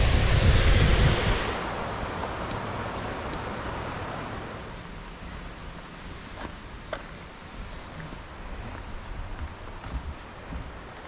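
Salt Creek Falls in Oregon gives a steady broadband rush of falling water, loudest in the first second or two and then settling into a softer, continuous roar with faint wind buffeting and no talk.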